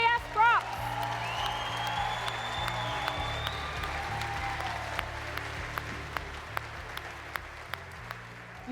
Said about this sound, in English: let's give a round of applause for SKS Props.